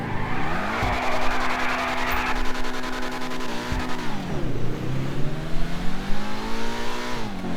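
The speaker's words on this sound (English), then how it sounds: "at last we have the Benefactor LRC GT" A Benefactor LRC GT sports car in GTA Online revs hard through its gears with rising and falling engine tones, while tires squeal and skid under the loud, continuous drone.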